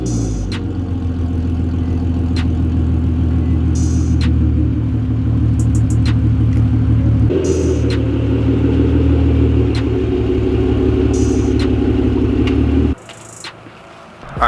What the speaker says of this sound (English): The car was driven already, so it's gonna be a warm start, but you'll still get to hear it.